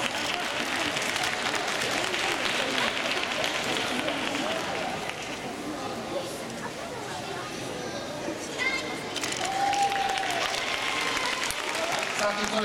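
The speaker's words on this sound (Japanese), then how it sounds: "皆様、大きな拍手をお願いいたします。" Clapping from the audience at an award ceremony for a dance contest at a Chichibu festival, a long moderate round of applause mixed with crowd chatter and children's voices, with speech over the top.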